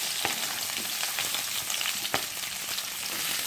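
Chopped onions are frying in hot oil with fennel seeds, giving a dense, steady hiss with a few crackles and pops. Close and continuous, with no talking.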